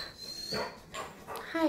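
A pet dog whimpers and whines in short, high-pitched bursts close by indoors, with a brief spoken greeting over it.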